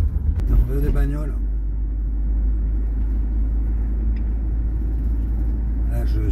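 A camper van cruising along a road leaving the port of Setúbal, a steady low engine and tyre rumble throughout, with someone talking briefly at the start.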